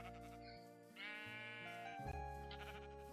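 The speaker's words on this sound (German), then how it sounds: "Ich hab ein pinkes Schaf gefunden!" Minecraft sheep bleating in a video game, a pink sheep, with several wavering, nasal bleats in a row, close and clear, with no talk over them.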